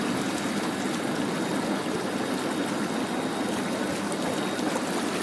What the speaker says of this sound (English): that kicks the bubbles into action